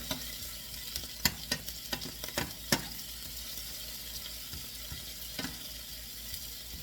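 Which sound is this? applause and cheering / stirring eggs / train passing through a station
stirring eggs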